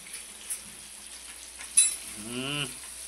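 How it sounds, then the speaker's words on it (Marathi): Fish fries in a pan on a small gas burner, with a faint, steady sizzling hiss and a few light clinks. A brief low animal call, like a cow mooing, rises near the end. "आता आपण बघू अंजलीची फिश फ्राय कशी चालली आहे."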